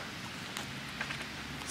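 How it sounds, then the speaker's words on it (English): Hail falling outdoors in November after earlier snow, a faint, steady, soft pattering wash with a few light ticks over about two seconds. "It's hailing in November."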